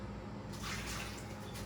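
Water runs steadily from a refrigerator's built-in water dispenser after an ice and water line hookup, a quiet continuous hiss and trickle lasting under two seconds with no one talking.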